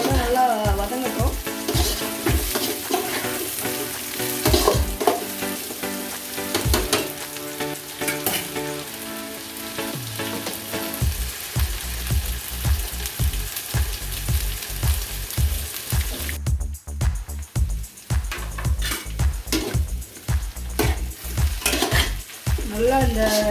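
Drumstick pieces and potatoes fry with onions in a pan, a continuous close sizzle broken by repeated scraping and clanking of a stirring spoon against the metal pan.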